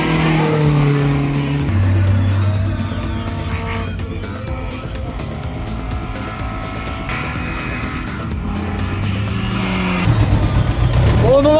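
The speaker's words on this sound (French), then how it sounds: "Pour le moment tout va bien, la voiture marche bien" Rally car climbing Mont Ventoux during the 2011 Ronde du Mont Ventoux, its engine loud and close with shifting pitch through gear changes and possible tire squeal, with a voice talking over it throughout.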